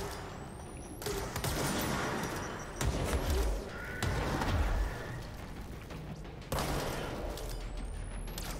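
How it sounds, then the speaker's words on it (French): Sniper rifle shots in the video game Control, loud sharp blasts with heavy low-end booms spaced a few seconds apart, mixed with game effects and sustained noisy tails. "On va sortir un peu, par exemple, le sniper."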